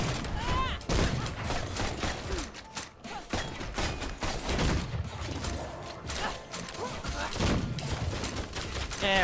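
Rapid gunfire in the Full Metal Furies co-op action game, with dense bursts of shots and clanking mechanisms over busy game sound and occasional voices.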